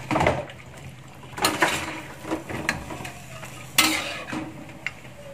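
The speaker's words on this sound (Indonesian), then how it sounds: "Kita aduk rata." Spoon scraping and clinking around a pot as chicken with turmeric spice paste, galangal, lime leaves and bay leaves is stirred, a few sharper knocks against the rim, with a quiet background hum.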